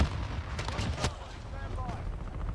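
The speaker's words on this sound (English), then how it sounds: "Grenade out!" A grenade blast in a multiplayer shooter game, a single sharp burst followed by rumbling gunfire and a voice talking over the action.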